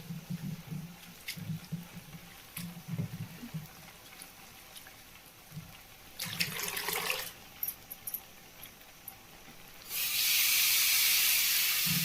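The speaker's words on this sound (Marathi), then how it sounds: "ही शापूची भाजी चांगली धुवून घ्यायची" Dill greens are washed under running water, heard as splashing and trickling with scattered handling sounds, then a loud steady rush of water from the tap toward the end.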